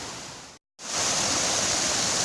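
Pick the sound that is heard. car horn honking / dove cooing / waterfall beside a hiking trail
waterfall beside a hiking trail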